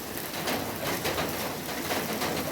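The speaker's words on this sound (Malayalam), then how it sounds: "മഴ പെയ്യാണ് കേട്ടോ" Morning rain falls in a steady, soft hiss of broadband patter that stays even and moderately distant throughout, with no voices.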